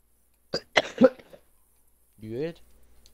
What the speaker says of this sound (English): massive cough